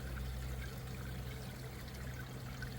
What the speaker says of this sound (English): If I turn it down any lower, the shower runs slow, just trickling.